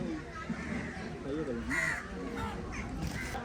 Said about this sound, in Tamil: மேலே காகம் காத்துது